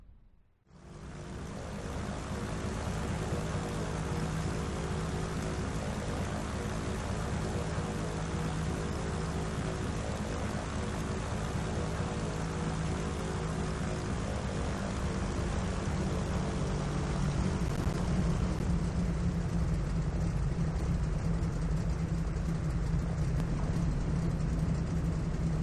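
Piper Seneca PA-34 twin-engine propeller aircraft landing in Flight Simulator X, a steady loud engine drone with a low tonal hum throughout, rising slightly toward the end, with no talk.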